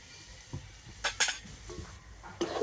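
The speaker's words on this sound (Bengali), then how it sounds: "তো ভাজা মশলা দিয়ে আবার কিন্তু একটু এরকম নাড়াচাড়া করে নিতে হবে" A spoon scrapes and clinks against a pan while fried spice is stirred into a thick raw-mango sandesh mixture, a few light knocks and scrapes spread out over quiet background.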